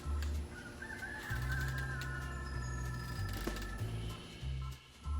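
Doves or pigeons cooing outdoors, low soft hoots repeated in a steady series, with a few faint higher bird calls in the background.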